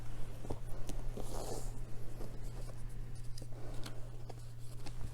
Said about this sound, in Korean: 우리 여러분을 위한 좋은 카드 한 장 뽑아볼게요